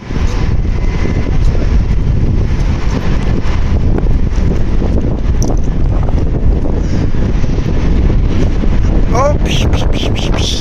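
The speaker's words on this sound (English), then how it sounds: "the wind is winding" Heavy wind roars across the microphone among the high-rise towers of Moscow City, a loud, steady rumbling buffet that runs throughout; a voice briefly exclaims near the end.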